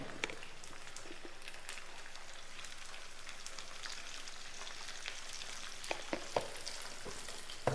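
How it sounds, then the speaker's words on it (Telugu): Turmeric and oil frying on a stove turned up to high heat, a faint, even crackling sizzle with a few sharper pops and taps toward the end, no talking. "స్టవ్ అయితే హైలో పెట్టేసుకొని కొంచెం వేయించుకుందాం"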